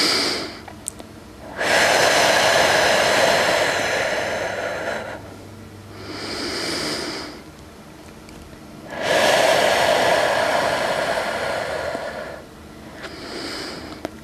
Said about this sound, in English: We can take deep breaths here.